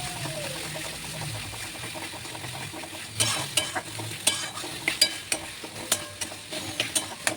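Chicken sizzles with ginger, garlic, onion and dried chilli paste in a pan, softly at first, then a spoon stirs with a run of sharp, rhythmic clicks and scrapes over the steady frying.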